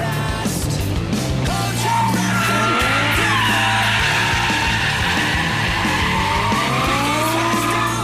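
Hartge H50 BMW 3 Series with the M5 V10 engine drifting sideways around a corner, tires squealing loudly over the roaring, revving engine throughout.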